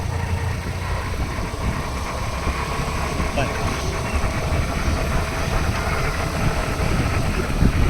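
Motorbike engine droning steadily while riding on a scenic road, a loud continuous rumble with wind noise and people talking over it.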